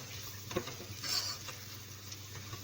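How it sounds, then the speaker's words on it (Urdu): A spoonful of garlic paste frying in a pot for an aloo matar curry gives a soft, steady sizzle, faint and close, with a slight clink of stirring near the middle. "اس کو 2 منٹ بھونیں گے۔ لہسن ہمارا بھون چکا ہے"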